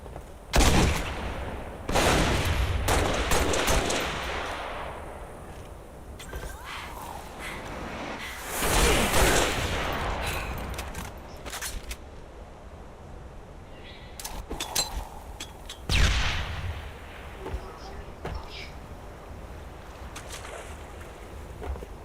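Noob tube grenade launcher fire in Halo: several loud, sharp bursts arrive at uneven intervals, each ending in a broad explosive wash, mixed with continuous game ambience.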